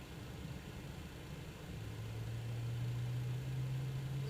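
An MD-11 jet engine spooling up during an engine start in Microsoft Flight Simulator 2020: a faint, steady low hum, then a tone that rises gradually in pitch, heard alone.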